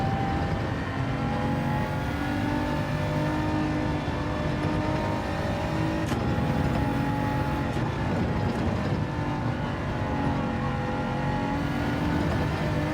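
Race car engine in Gran Turismo 7 crossing the start-finish line on fresh soft tyres, a loud sustained drone whose pitch rises and falls through gear changes, with no talk.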